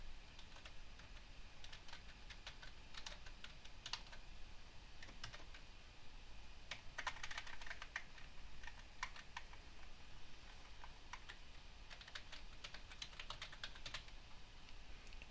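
Quiet, steady typing on a computer keyboard while a password is entered, with irregular clusters of light key clicks and short pauses, close and alone.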